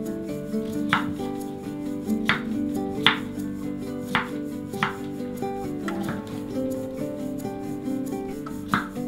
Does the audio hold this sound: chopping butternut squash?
yes